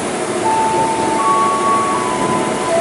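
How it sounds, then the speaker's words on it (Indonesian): A train passes close by at Maja station in Indonesia with a continuous loud rolling roar, thin high-pitched squealing tones drawn out over the rumble. "Kereta bareng mau lewat."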